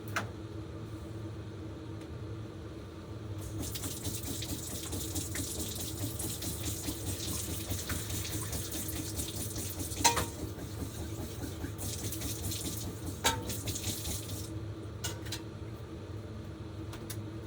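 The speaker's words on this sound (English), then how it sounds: "We're just gonna drain out the green beans." Boiling water from cooked green beans pours and splashes steadily into a kitchen sink for several seconds, a continuous rushing gush with a couple of brief clanks near the end.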